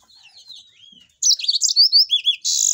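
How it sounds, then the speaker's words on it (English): A canary sings alone, starting with soft, thin chirps, then breaking into loud, rapid warbles and trills that end in a sustained buzzing roll. "This is a canary."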